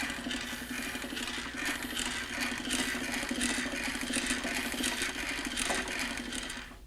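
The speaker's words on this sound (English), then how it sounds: "Notice the cable winds evenly on the winch drum." Superlift Advantage manual winch turned by its handles to raise a load on the forks, cable winding onto the drum with a steady whirring, ratcheting mechanical clatter, close and continuous throughout.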